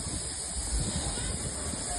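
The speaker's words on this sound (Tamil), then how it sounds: "ட்ரெயின் கிளம்பிடுச்சு." A steady, broad hiss of escaping steam fills the clip as the Ooty mountain toy train departs, with a low rumble underneath like a train engine idling nearby.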